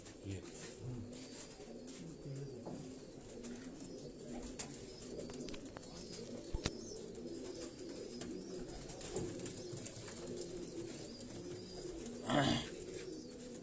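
Khaki kamgar breed pigeons coo softly in a loft, low murmuring calls scattered over a faint background with occasional rustles and a brief louder burst near the end.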